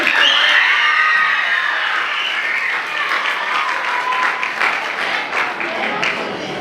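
School spring concert audience clapping and cheering, loud dense applause mixed with children's shouts and whoops, strongest at the start and easing slightly but continuing throughout.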